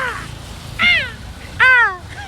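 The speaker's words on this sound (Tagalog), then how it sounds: "Mga uwak." Crows cawing outdoors at dawn, three loud harsh calls spaced about a second apart, close by over a low background murmur.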